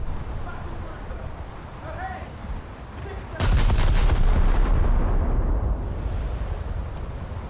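Heavy naval gunfire from the battleship HMS Barham in a naval combat video game: a sudden loud broadside boom that rolls into a long, thundering rumble over a constant sea-like background wash.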